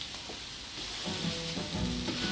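Beef Angus burger patties sizzle on a flame-grill BBQ, a steady close crackling hiss that swells slightly louder after the first second, with no voices.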